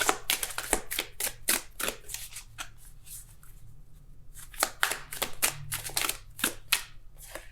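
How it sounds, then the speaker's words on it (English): Tarot cards are shuffled close up in quick papery riffles and flutters, bunched in bursts with a short quiet pause partway through, with no talking. "I'm gonna keep shuffling because it didn't come out clearly"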